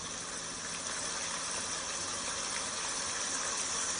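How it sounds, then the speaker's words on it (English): Rain falling steadily, a soft, even hiss of water at low level that continues without breaks and with no voices. "Listen to the water"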